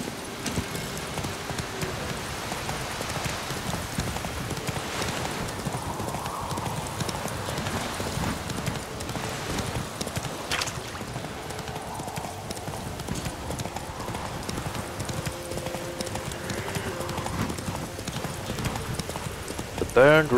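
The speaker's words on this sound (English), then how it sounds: "I'll just ride my horse" Rhythmic hoofbeats of a horse at a steady gallop in the video game The Witcher 3, continuous and fairly close, with a low ambient bed and a few soft tonal game sounds.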